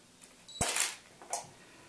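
A camera shutter fires test shots during a product photo session, two short mechanical clicks close to the microphone, the first louder, with quiet room tone between.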